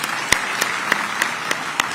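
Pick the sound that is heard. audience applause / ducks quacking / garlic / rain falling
audience applause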